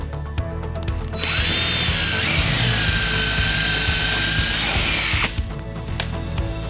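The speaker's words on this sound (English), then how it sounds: "drill a smaller pilot hole directly into the wall" A power drill whines steadily at high speed for about four seconds, boring a small pilot hole into a wall for shutters, starting and stopping abruptly, with quiet background noise before and after.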